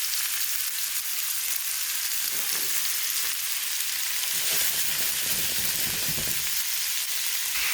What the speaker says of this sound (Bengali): কড়াইতে মাছ দিয়ে দিলাম।